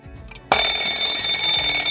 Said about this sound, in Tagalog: Isang alarm.